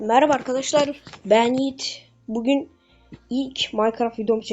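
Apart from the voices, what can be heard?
No everyday noises stand out.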